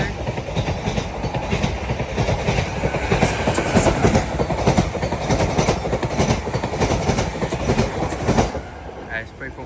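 A Class 745 electric train runs through Shenfield station on the Great Eastern Main Line, its wheels rattling and clattering over the rails in a dense, rhythmic stream that eases off toward the end, with a voice talking faintly beneath.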